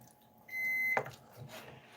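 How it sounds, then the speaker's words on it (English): A kitchen timer beeps once to mark the rice cooked in an unstuffed pepper skillet, a single short high electronic tone, close and fairly quiet, followed by faint handling noise. "see the timer just went off"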